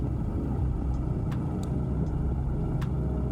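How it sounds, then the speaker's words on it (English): A light aircraft engine in a flight simulator hums at a low, steady rumble with the choke pulled off, broken by a few faint clicks, and no voice heard. "Normally when you get choke off, the RPM drops"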